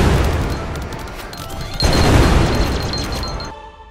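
In the video game Greedland, explosions rumble and crackle in a dense, continuous din that swells partway through, then thins out and fades near the end.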